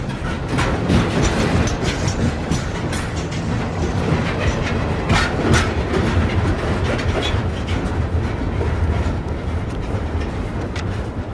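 A train running along tracks laid through town streets, heard close and loud: continuous rumbling wheels with clickety-clack rail joints and occasional sharp metallic squeals over the steady roar. No talk.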